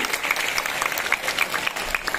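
Students applauding an OSIS chairperson candidate at a school vision-and-mission session, brisk continuous clapping from a crowd throughout.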